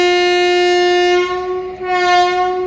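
A loud, sustained train horn blares close by at a small railway station on the Mangaluru–Goa line, holding a steady tone for a few seconds with a brief dip before resuming.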